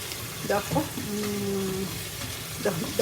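Large chopped onions sizzling in a pan with a soft steady hiss, some stirring and scraping, and faint voice-like sounds over it.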